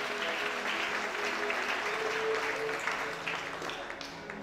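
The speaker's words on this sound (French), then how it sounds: "Acclamons le Seigneur." A worship congregation in a church service in Lubumbashi claps together in sustained, even applause that fills the room throughout and fades slightly at the end.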